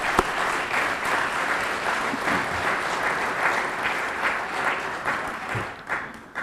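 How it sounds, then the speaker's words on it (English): Sustained audience applause fills a hall during a school Hall of Fame induction evening, a dense steady clatter of many hands holding at even loudness before tapering near the end. "we give him a big round of applause"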